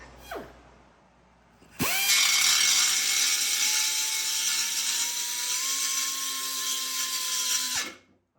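A CHIEF pneumatic 1/4 in. die grinder fitted with a bit spins up with a sharp start, then holds a loud, steady high-pitched whine for about six seconds, its pitch shifting slightly before it cuts off abruptly.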